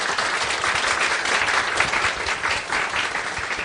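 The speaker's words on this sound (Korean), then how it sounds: "한번 박수 쳐주시면 감사하겠습니다." An audience at a company job talk show bursts into sustained applause, a dense even wash of many hands clapping for senior R&D employees, steady and fairly loud without pause.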